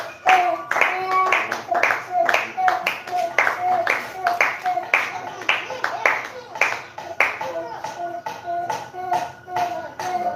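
A congregation at a French-language worship gathering claps in steady rhythmic time, crisp repeated hand claps filling the room under a speaking voice.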